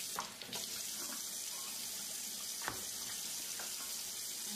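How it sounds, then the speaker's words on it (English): Steady rush of running tap water splashing into a sink as a pot is rinsed underneath, with a few brief clunks. "I'll rinse it out."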